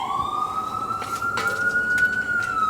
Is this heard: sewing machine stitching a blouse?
no